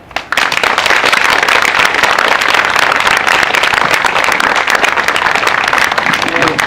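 Sustained crowd applause at an outdoor prayer meeting in front of Cheongun-dong community center, Seoul, calling for a Sewol ferry special law: loud, dense clapping that starts sharply and carries on evenly throughout.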